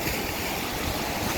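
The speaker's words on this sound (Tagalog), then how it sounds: "Grabe, ang alon po, sobrang lakas" Strong waves and rushing water surge behind a house during heavy rain and wind, a loud, steady, close roar of churning water with no talk.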